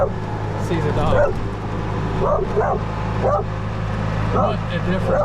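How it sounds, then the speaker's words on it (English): A dog barks several times in short bursts near a moving golf cart, the yips rising over a steady low motor hum while a person talks. "Sees a dog."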